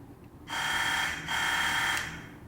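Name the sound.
doorbell buzzer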